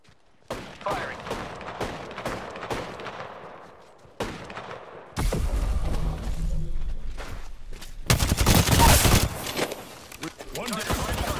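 Gunfire in the Apex Legends shooter game, playing as Gibraltar: quick volleys of sharp shots at first, then denser, louder bursts of automatic fire later, with a player talking between the shots.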